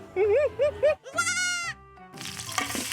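Young goats bleat nearby in rural Pangasinan, Philippines, a quick quavering series followed by a longer loud cry, then running water splashes.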